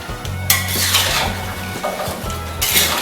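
Taro stems dropped into a metal cooking pot, with a few clanking knocks and scraping stirs against the pot's sides, close and fairly loud, with no speech.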